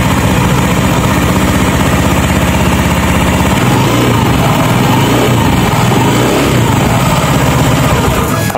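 An automatic scooter engine runs steadily during a CVT service check, a loud continuous drone that holds even, then shifts to a rougher, deeper note partway through as the revs change.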